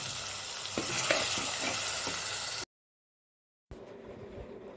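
Ground spice paste for Kerala-style sardine curry hits a hot pan and is stirred. A loud, continuous sizzle scrapes along, breaks off into a short silence, then returns quieter.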